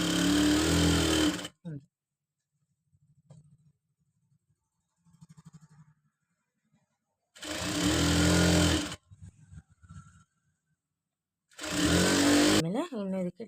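A sewing machine stitches a folded blouse seam in three bursts of steady, loud whirring, separated by quiet pauses with soft handling sounds and someone talking.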